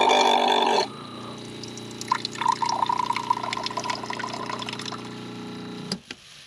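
A tap in a small electric micro camper runs water into a cup for a drink, a brief loud gush then a steady trickling fill with light clinks, ending in a short drip and a knock.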